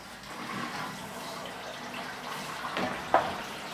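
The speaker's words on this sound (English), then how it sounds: "I hear water filling up somewhere, but I don't know where it's going." A RekeSmt smart toilet fills with water after installation, a faint, steady trickle and hiss with a small knock near the end.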